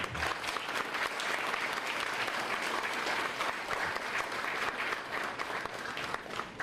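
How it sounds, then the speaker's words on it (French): Sustained applause from an audience at a ceremony installing the head of Haiti's Court of Cassation, a dense, steady clapping that fills the whole stretch at an even level without a break. "Ça mérite des applaudissements si vous voulez."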